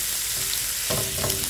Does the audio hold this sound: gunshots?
no